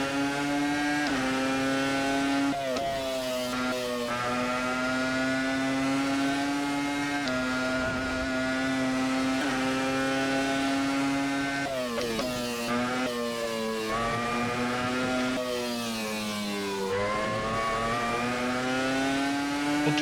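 Video game V10 Formula 1 car engine revving hard and continuously for about twenty seconds, a loud, shrill whine that climbs and drops with brief gear-shift breaks, with no talk.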